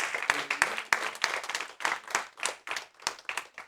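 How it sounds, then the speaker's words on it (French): An audience at a church gathering applauds to welcome a young woman, a dense, steady patter of many hands clapping throughout with some sharper individual claps near the front. "on va acclamer Amélia"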